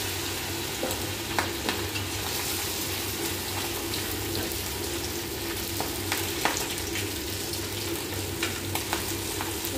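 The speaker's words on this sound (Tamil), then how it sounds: "மீன் பொரிக்கும் போது நம்ம சிம்மில் வச்சு நம்ம பொறுமையாக பொரிச்சு எடுக்கணும்" Fish pieces coated in masala, egg and cornflour frying over low heat in oil, a steady close sizzle throughout with occasional sharper pops and crackles, no voices.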